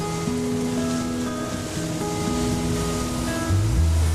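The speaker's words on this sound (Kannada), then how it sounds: "ಅಲೆಗಳ ಶಬ್ದ ಎಷ್ಟು ಚೆನ್ನಾಗಿ ಕೇಳಿಸ್ತಾ ಇದೆ" Sea waves wash steadily onto a beach in a continuous broadband roar, with sustained musical tones playing over the surf throughout.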